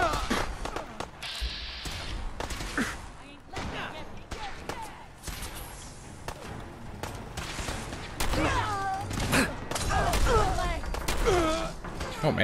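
Turret gunfire crackles through a settlement firefight in Fallout 4, with dense bursts of shots mixed with game effects and a voice talking over much of the action.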